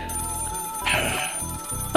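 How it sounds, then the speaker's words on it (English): A telephone ringing with a repeating electronic trill, close and clear, pausing briefly between rings, with no voices over it. "Does the phone begin ringing at this point?"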